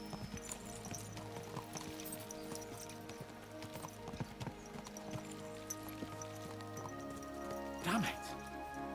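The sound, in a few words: horses galloping, from video game Kingdom Come Deliverance 2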